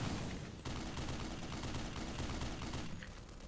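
Rapid turret gunfire rattles continuously in the Black Mesa game, a dense stream of fast shots at steady loudness, with a sharp jump in intensity early on and a slight easing toward the end.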